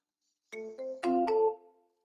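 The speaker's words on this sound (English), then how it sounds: "Let me know if you guys can hear the phone ring" Phone ringing on an outgoing call, a short electronic ringback of several stacked tonal beeps in two bursts, clear and alone with no talk.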